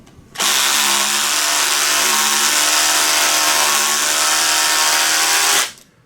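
A power drill drives screws through painted wood to mount a Fender Precision bass neck on a Thunderbird-style bass body, a loud whining motor run of about five seconds starting and stopping abruptly, close and alone.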